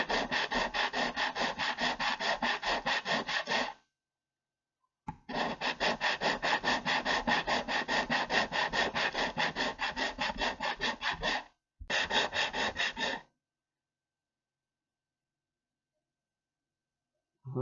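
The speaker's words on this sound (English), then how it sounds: "Put it on the flat desk and just rub it back and forth" A Range Rover Classic thermostat part is rubbed back and forth on a flat desk, giving close, rhythmic rasping strokes in three runs with short pauses, followed by silence.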